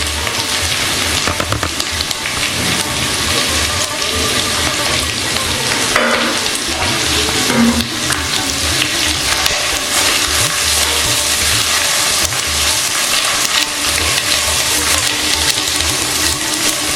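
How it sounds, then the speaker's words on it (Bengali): Chopped onions fry over low to medium heat in a pan while being stirred, giving a steady, loud sizzle with scraping stir strokes throughout. "লো টু মিডিয়ামে পেঁয়াজটা নাড়াচাড়া করে একটু সফট হওয়া পর্যন্ত আমি ভেজে নেব।"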